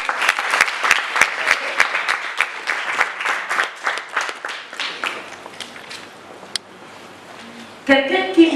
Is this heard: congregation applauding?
yes